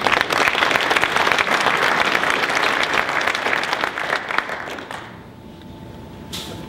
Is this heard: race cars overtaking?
no